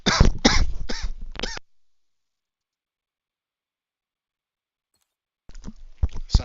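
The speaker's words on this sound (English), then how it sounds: "I'll cough like a bunch before I sneeze" A person coughs several times in a quick, harsh burst up close, then a long silence follows before another short cluster of coughs and throat noises.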